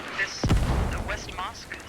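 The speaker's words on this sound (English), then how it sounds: "Mortar is landing behind us on East Compound" A deep boom from a mortar shell landing in the video game Squad, with a low rumble that fades out. It comes during an esports match, and commentators talk over it.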